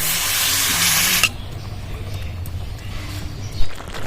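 Water poured into a hot pan of village-style pumpkin curry, giving a loud hissing rush of steam for about a second before it drops to a low bubbling simmer with a faint clatter.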